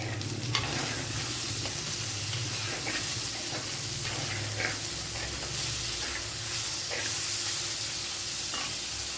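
Sliced onion and a large tomato sautéing in a pan, a steady close sizzle and hiss throughout with occasional stirring scrapes.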